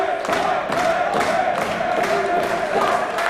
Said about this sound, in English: The crowd showing their appreciation for Amazing Red right now.